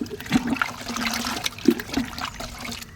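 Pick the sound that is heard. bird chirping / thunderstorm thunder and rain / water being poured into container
water being poured into container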